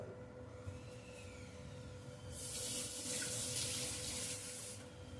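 Water runs from a kitchen tap while making batter for soft vellayappam, a faint background hum at first, then a steady gushing stream for about two and a half seconds before it shuts off.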